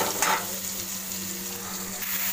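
Potatoes, cumin, green chili and moong dal frying in a pan give a steady, moderate sizzle with a faint low hum underneath and a brief scrape of stirring near the start.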